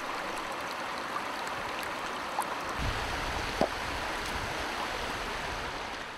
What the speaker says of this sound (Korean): 계곡물 흐르는 소리에 몸과 마음의 찌꺼기들도 맑게 정화되는 기분입니다.